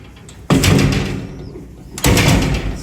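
A heavy, electronically locked door swings shut with two loud, solid thuds about a second and a half apart, each ringing on briefly, close by with faint birdsong in the background.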